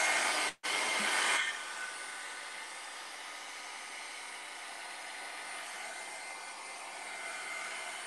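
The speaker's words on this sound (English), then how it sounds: "it helps to take away the sound of her heat tool there" A heat tool blows steadily to dry paint on a canvas artwork, a continuous hissing whoosh with a brief cutout near the start, then a softer, even roar that runs on alone to the end.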